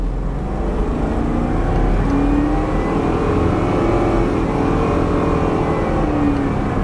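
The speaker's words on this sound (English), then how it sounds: "Yeah, trans is slipping pretty bad." A Chevy Tahoe 4x4 with a badly slipping transmission accelerates, heard from inside the cab. Its loud, continuous engine drone swells as the revs climb, without a clean shift.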